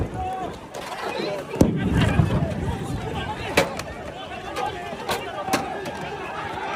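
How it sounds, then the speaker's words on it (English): A protest crowd in Mexico clashes with riot police: a dense, chaotic crowd roar and chatter, punctuated by several sharp bangs and impacts that stand out above the churning noise throughout. "This is video of the brutal clash between riot police and anti-Sheinbaum crowd in Mexico."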